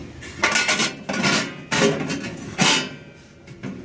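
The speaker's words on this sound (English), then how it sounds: "you can just simply lift the plates up" Metal plates clank and scrape as they are lifted and slid inside the cooking chamber of an Oklahoma Joe's Highland reverse flow smoker, several distinct close metallic bangs and rattles in quick succession.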